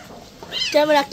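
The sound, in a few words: kitten meowing during a bath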